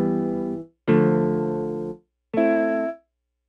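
Three sustained guitar notes from a Mellotron sample on a Nord Electro 6D keyboard, played with fuzz distortion, each held about a second and cut off cleanly, with silence between them.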